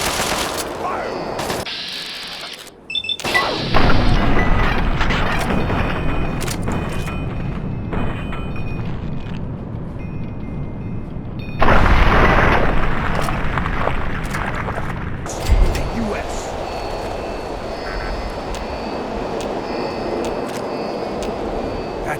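Artillery strike in Fallout 3 pounds a target with heavy booming fire, loud rumbling blasts recurring across the stretch with a big impact surge midway, under the game's background ambience.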